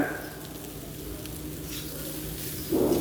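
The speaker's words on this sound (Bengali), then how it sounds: "ভালো করে নেড়ে চেড়ে লতি দিলাম ভালো করে নেড়ে চেড়ে যখন ভাজা ভাজা হয়ে আসবে" Taro stolons frying with nigella seeds in a pan as they are stirred; a steady, fairly quiet sizzle runs throughout, with a louder scrape of stirring near the end.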